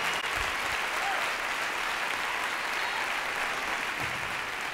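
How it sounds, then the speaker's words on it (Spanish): A concert audience gives sustained, dense applause at a live Christian music show, loud and steady throughout with no break. "Este aplauso es para la vida"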